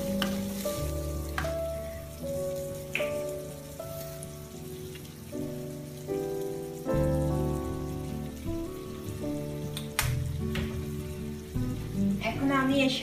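Vegetables with tomato ketchup cook in a pan over lowered heat for vegetable macaroni, giving a steady close sizzle with intermittent stirring clinks and scrapes throughout.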